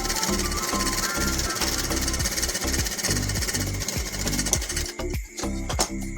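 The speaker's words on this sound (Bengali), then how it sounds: "এই নেটটাকে আগে সেলাই করে নিতে হবে" A sewing machine stitching net fabric for a girl's skirt runs in a fast, loud, steady mechanical rattle with rhythmic thumping, then stops abruptly near the end, leaving a few sparse clicks.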